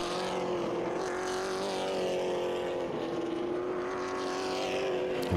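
Late model race car engine on a dirt oval at Kil Kare, a loud sustained droning roar holding a steady pitch as it runs through the fourth turn, with no talk over it.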